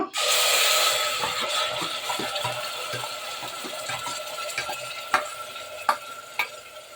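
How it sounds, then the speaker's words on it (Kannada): Ground masala paste hits hot oil for a liver gravy roast, giving a loud, steady sizzle that gradually eases, with a few sharp metallic clinks of a utensil near the end and no voices. "ಎಣ್ಣೆ ಬಿಸಿಯಾಗಿದೆ ನಾವು ರುಬ್ಕೊಂಡಿರುವಂತಹ ಮಸಾಲೆಯನ್ನು ಹಾಕ್ಕೊಂಡು ಫ್ರೈ ಮಾಡ್ಕೊಳ್ಳೋಣ"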